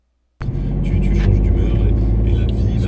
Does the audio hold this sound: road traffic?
yes